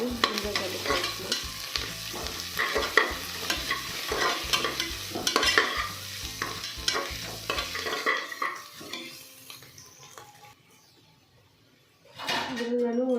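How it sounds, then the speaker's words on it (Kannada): Ginger garlic paste fries and sizzles in a pan while being stirred, with steady scraping and sizzling for about eight seconds, then fading to a quiet lull before another burst of sizzle near the end. "ಹಾಕ್ಕೊಂಡು ಹಸಿ ವಾಸನೆ ಹೋಗೋವರೆಗೆ ಚೆನ್ನಾಗಿ ಫ್ರೈ ಮಾಡ್ಕೊಳ್ಳಿ."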